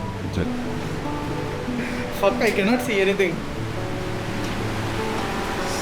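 A constant roar of water falling in the Partnachklamm gorge in Germany surrounds the scene while someone speaks briefly over it midway.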